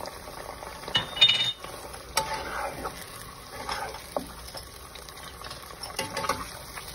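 Beef is stirred with ginger-garlic paste in a pot, producing soft scraping and clinking of a spoon against metal with faint sizzling, in irregular bursts over a quiet background.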